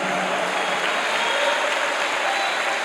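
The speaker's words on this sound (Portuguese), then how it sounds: "Aplauda o Senhor com brado de vitória." A congregation at a Baptist missionary church's communion service applauds in a dense, steady wash of clapping that stays loud and even throughout.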